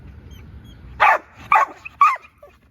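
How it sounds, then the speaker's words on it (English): A pitbull guard dog gives three sharp, close barks about half a second apart, with a faint yip between them, over quiet background rumble. "Best guard dog I done ever had."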